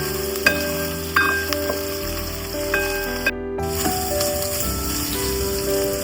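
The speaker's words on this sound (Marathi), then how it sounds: "त्याच फोडणीत मी भाजून घेतोय" Okra pan-roasting in a hot oil tempering for a Malvani village-style ladyfinger dish, giving a steady close sizzle with a few sharp pops and clinks of stirring throughout.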